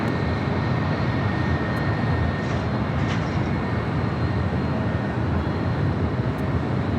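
A Boeing 777 freighter landing at LAX, heard as a steady, loud broadband jet roar with a low rumble that holds constant for the whole stretch, with no talk over it.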